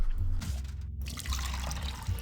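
An office water cooler in a video game dispenses a drink, a short liquid pour and trickle with a brief gurgle, heard close and alone.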